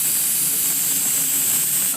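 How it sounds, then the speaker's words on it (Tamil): Ground ginger-pepper masala sizzles in hot frying oil for a pepper masala chicken semi gravy, a loud, steady, close hiss that runs unbroken with no voices. "போட்டு நல்லா எண்ணெயில் வதக்கி விட்டுருவோம்."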